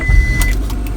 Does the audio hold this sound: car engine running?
yes